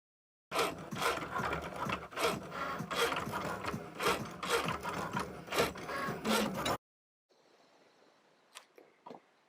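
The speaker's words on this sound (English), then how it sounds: "your machine will go through the process of detecting the tool and detecting the mat, etc., and it will start its cut" A Cricut cutting machine works through a cake topper layer, giving a close, rhythmic mechanical whirring and clicking of carriage moves that stops abruptly, followed by faint quieter clicks.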